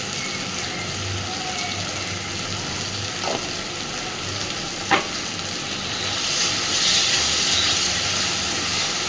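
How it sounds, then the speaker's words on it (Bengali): Spices and chilli powder frying in a pan for Kashmiri aloo dum give a steady hissing sizzle with a couple of brief sharp clinks, growing a little louder near the end. "খুব ভালোভাবে এবার মশলাটাকে কষাতে থাকবো।"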